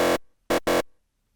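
A gritty synth one-shot for psytrance hits three times, one hit, a pause, then two quick hits close together, each loud and abrupt with a brief tail.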